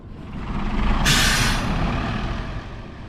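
A bus pulls up and stops in a quiet rural village, with a sharp hiss of air brakes releasing over steady engine rumble, loud and close.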